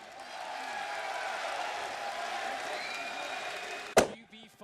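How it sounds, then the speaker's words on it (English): Crowd applause at a Counter-Strike esports major in Boston, a steady wash of clapping and cheering from a large arena audience, cut short by a sharp thud near the end. "Give that man a round of applause, guys,"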